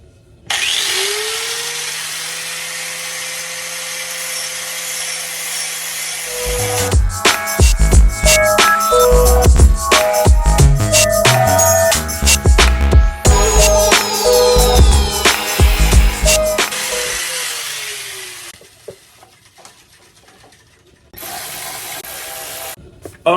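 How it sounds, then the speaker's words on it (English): A motorcycle rear brake master cylinder piece from a Kawasaki Ninja ZX-6R is filed down with a power tool, making a loud, rapid, harsh grinding rattle that runs for several seconds, stops briefly, then returns, with no talking. "So I'm going to go ahead and just file this down a little bit."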